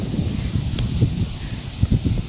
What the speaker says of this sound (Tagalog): Kusog yun ang hangin guys